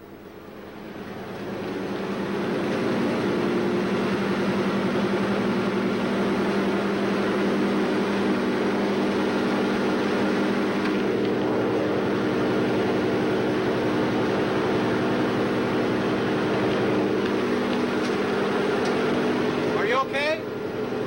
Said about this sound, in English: We're about ready for takeoff.